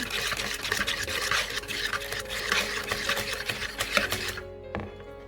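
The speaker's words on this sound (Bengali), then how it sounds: "দুটো ডিম দিয়ে দিচ্ছি দিয়ে এখন সব কিছু খুব ভালো করে মিশিয়ে নিচ্ছি" Banana cake batter being mixed by hand after two eggs go in, with steady scraping and stirring strokes against the bowl, close and continuous, slowing near the end.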